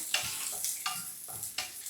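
Onion and ginger fry in oil in a pan with a sizzle, broken by three or four scraping stirs at a steady pace, close and moderately loud.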